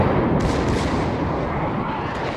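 Heavy naval guns fire from warships in World of Warships, a deep rumbling boom that rolls on continuously and loudly, filling the moment with little variation and no talking.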